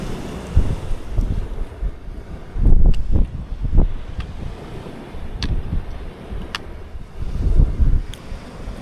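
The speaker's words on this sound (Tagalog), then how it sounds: "Lipat tayo dito guys, medyo malakas hangin doon." Strong wind buffeting the microphone at a beach, with rumbling gusts that swell and fade in bursts over the sound of surf, close and loud, with no talk.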